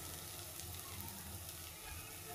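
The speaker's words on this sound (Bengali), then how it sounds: "আর এদিকে বড়া ভাজছি" Jackfruit fritters sizzle in hot oil in a pan, a steady low crackle and hiss continuing quietly without pause.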